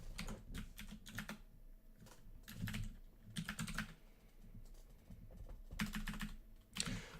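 Bursts of quick computer keyboard typing come in uneven clusters with short pauses between, close and fairly quiet, as keys are pressed during a roguelike game.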